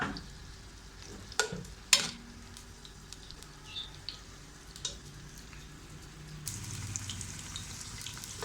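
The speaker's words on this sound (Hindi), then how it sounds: "इसमें प्याज को लाइट सा सुनहरी कलर देना है। थोड़ा सा सोते करना है" Onions sauté gently in a pan, a faint low sizzle under a few sharp clanks and scrapes of a stirring spoon, with a louder burst of frying near the end.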